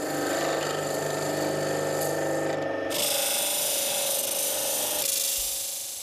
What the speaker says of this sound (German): Im Gegensatz zu Holz wird Bernstein beim Drehen nicht geschnitten, sondern geschabt.